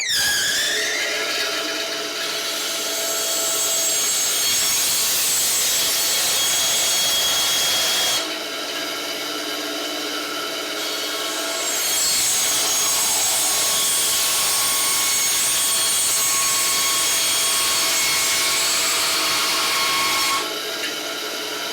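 An old blade cutting through an aluminum tin can to open it into a sleeve, giving long harsh grinding, rasping strokes separated by brief pauses, loud and close.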